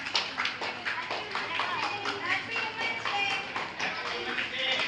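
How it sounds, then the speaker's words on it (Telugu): Audience clapping at a church Women's Day celebration, a dense run of hand claps with sharp repeated taps, steady and moderately loud with voices mixed in underneath. "క్లాప్స్ కొట్టండి."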